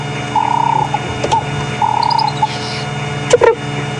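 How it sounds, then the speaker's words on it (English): An animal on a safari drive at a South African game reserve gives short, bird-like chip chip contact calls, repeated several times at close range over a low engine hum. "it's giving a little contact call. It sounds a bit like a bird. It goes chip chip."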